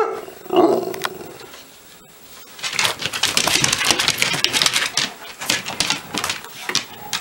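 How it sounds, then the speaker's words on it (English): A dog growls up close, then after a brief pause breaks into a rapid flurry of snappy barks and rough growls that continue to the end. "Quit barking"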